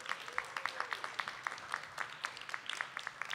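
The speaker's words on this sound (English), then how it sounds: "can you give your teachers a big round of applause?" Schoolchildren and audience at an elementary school assembly clap for their teachers, a steady crowd applause with individual claps popping out, moderately distant and sustained throughout.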